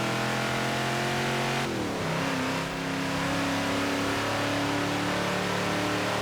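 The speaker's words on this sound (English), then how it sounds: "It is a powerful engine" A 1973 Ford XB Falcon GT in Forza Horizon 4 accelerating hard, its engine revving loud and continuous, with a quick gear change cutting the pitch before it climbs again.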